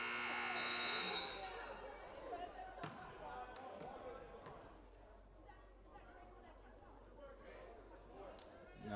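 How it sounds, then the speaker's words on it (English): In a college basketball gym, a shot clock buzzer sounds with a short loud blare near the start. Basketballs bounce and a crowd chatters in the background. "The buzzer goes off with 2 seconds left on the shot clock."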